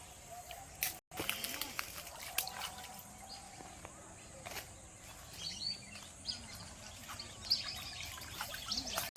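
Plates are washed with water outdoors in a village field: a soft trickle and splash run under people talking, with birds chirping faintly in the background.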